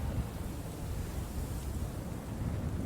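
Storm ambience on a World of Tanks battle map: a steady, dense broadband roar of rain and rolling thunder, continuous and fairly loud throughout with no distinct breaks, no voices.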